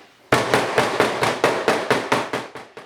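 A cubing hammer pounds a deer backstrap steak: about eleven sharp, close, evenly spaced whacks in a steady rhythm, with each strike ringing briefly before the next.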